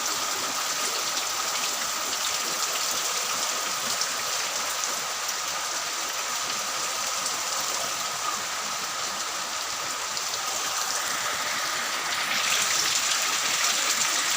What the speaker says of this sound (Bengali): দেখছেন কি বৃষ্টি পড়ে